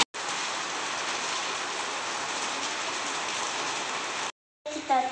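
Rain pours down in a steady, dense hiss for about four seconds, then cuts off abruptly, and a voice speaks briefly afterward.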